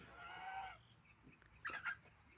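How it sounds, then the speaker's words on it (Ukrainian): Poultry calls from a farmyard with geese, chickens and ducks: a drawn-out squawk at first, then a couple of short clucks, fairly faint and close by, with no talking. "ось наші гуси, кури, качки"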